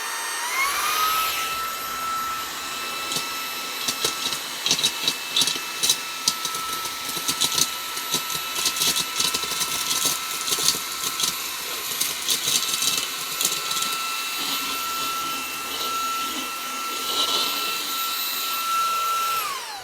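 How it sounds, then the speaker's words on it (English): A Xiaomi Mijia handheld portable vacuum cleaner runs at its highest power setting, giving a steady high-pitched whine with a rising start and constant tone, roughened by rattling bursts of debris being sucked up, close and loud throughout. "now let's try the Mijia handheld portable vacuum cleaner"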